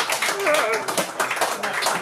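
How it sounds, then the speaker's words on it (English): Audience applause for a performer called Forged Steel, a dense, steady burst of many hands clapping with a few voices mixed in, fairly close and continuous throughout. "a round of applause for Forged Steel"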